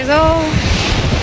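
Sea waves wash against the shore at Mahuva, a loud broad rush of surf with wind buffeting the microphone, while a voice speaks briefly at the start.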